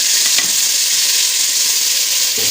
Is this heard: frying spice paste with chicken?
yes